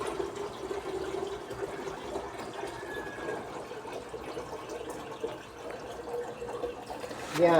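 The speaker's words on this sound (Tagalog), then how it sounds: "Yan, kumukuha tayo ng tubig dito." Tap water runs steadily into a container outdoors for watering garden plants, a soft continuous trickle and splash, with a brief louder bump near the end.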